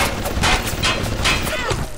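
Turret gunfire from the video game Bioshock pounds in a steady, repeating series of loud shots across a busy game soundscape, with no pause between bursts.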